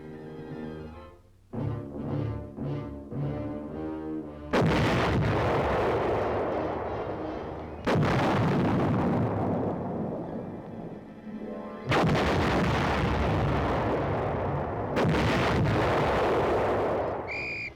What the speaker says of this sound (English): With the firing of the big gun, the enormous chess game has begun.